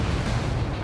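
Ships blowing up in the Ace Combat 7 video game, a dense, loud rumbling blast of explosions that fills the whole short moment with low booming roar.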